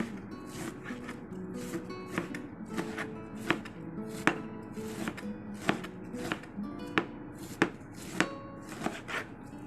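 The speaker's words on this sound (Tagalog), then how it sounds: "Next, the cabbage slice, small size." A knife slices cabbage into small pieces on a cutting board, striking about a dozen crisp, evenly spaced chops over a low steady background.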